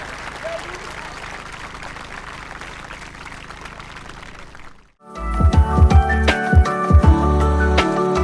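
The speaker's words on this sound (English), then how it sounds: "how about one more round of applause for the Castle High School Marching Night Band" A large outdoor crowd applauds the Castle High School Marching Knights band as it leaves the field at a band competition. Dense, steady clapping fills the first five seconds, then cuts off abruptly into other loud noise.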